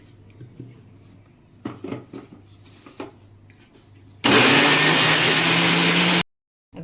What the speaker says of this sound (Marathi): आता हे पूर्ण बारीक करणार मी